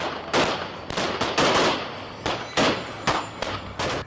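Gunfire in Port-au-Prince, Haiti, sounding as repeated sharp cracks and bursts over a steady noisy background, loud and fairly close, in irregular clusters with no talking.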